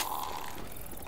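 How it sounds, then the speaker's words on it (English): Weapon reload from the video game Left 4 Dead 2, a quick mechanical clicking and ratcheting of gun parts, steady and close, heard alone without speech. "Reloading."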